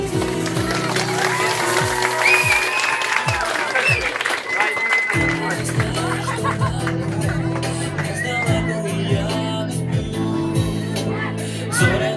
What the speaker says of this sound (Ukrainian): Оплески ваші!